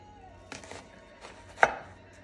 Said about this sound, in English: So this half of the onion, I'm going to dice up for a raw onion topping on top of them